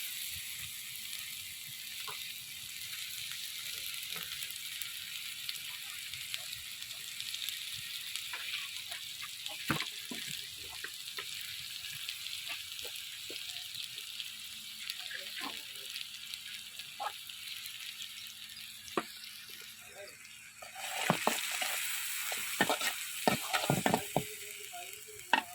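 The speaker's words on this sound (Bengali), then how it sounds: "তো পেঁয়াজটা একটু হালকা ভাজা দিচ্ছি" Onion lightly frying in a pan for a Barishal-style prawn and jackfruit seed dish, a soft continuous sizzle with scattered utensil taps, growing louder with stirring clatter near the end.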